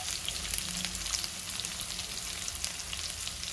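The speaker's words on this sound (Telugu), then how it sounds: "ఇలా మీడియం ఫ్లేమ్లో పెట్టుకొని దూరగా ఫ్రై చేసుకోవాలి." Bitter gourd frying in a pan over a medium flame gives a constant, fairly quiet, crackling sizzle that holds steady throughout with no voices.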